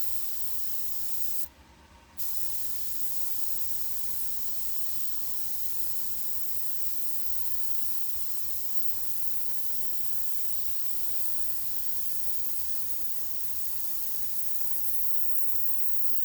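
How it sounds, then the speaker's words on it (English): A paint spray gun coating a tumbler gives a steady, unbroken hiss close by, pausing briefly near the start before resuming for the rest of the clip with no talking. "where the paint is actually going to spray when you"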